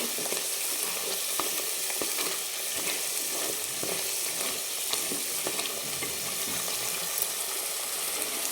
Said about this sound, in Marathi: आपल्याला ढवळत राहायचं याला कारण खाली चिटकतं